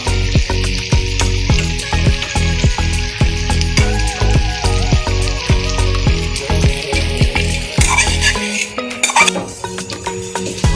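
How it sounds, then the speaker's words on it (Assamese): Loud, steady sizzling of duck meat frying in a pan, with scraping stirs and clinks throughout, and no talking. "মাংসখিনি মই এনেকৈ প্ৰায় 15 মিনিটমান সময় ভাজি থাকিলোঁ।"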